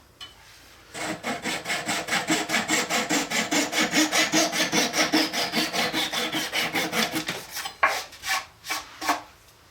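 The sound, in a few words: flush cut saw trimming wooden dowels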